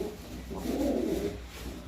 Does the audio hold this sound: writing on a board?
no